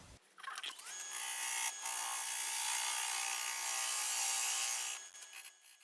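A negative rake scraper cuts a branchy butternut log spinning on a wood lathe, giving a sustained, loud whirring scrape with a steady tonal hum that starts abruptly and fades off after about five seconds, no voices.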